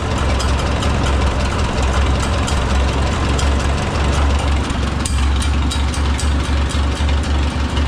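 Oliver 66 tractor with a freshly rebuilt Marvel Schebler TSX carburetor idles steadily and loudly up close, a continuous low engine rumble with a faint rhythmic exhaust chatter running throughout.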